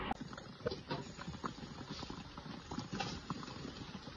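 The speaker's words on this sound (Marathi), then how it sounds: "पाऊस चालू आहे." Steady rain falls during an outdoor snake rescue, a dense continuous patter with scattered louder drops, no voices.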